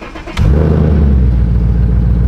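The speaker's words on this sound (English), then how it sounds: "Borla exhaust sounds nuts." A 2015 Mustang GT with a Borla exhaust fires up, a quiet start giving way to a sudden deep, loud, throbbing idle rumble that holds steady and close.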